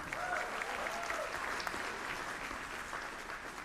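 Steady applause from a jazz concert audience honoring a young musician, a dense wash of many hands clapping that holds evenly throughout, with faint voices mixed in.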